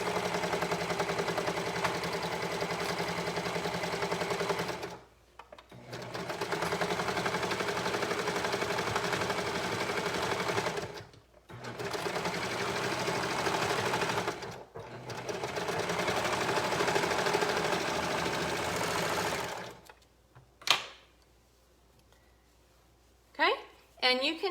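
Sewing machine stitching the curve of a shorts pocket: a steady mid-pitched motor hum in long runs of several seconds, broken by short pauses, then a few clicks and brief handling sounds at the end.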